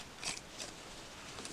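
A few faint scissor snips chew through heavy denim, spaced irregularly, soft and close with no voices.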